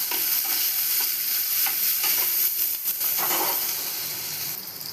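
Onion and tomato sauté in a pan, producing a dense, continuous hiss of frying with faint stirring scrapes, close and even throughout.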